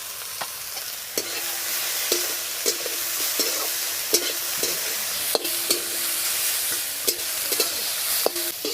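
Ridge gourd peel frying with spices in a village kitchen, a continuous sizzle punctuated by regular sharp spatula knocks and scrapes against the pan roughly every second, close and fairly loud with no voices.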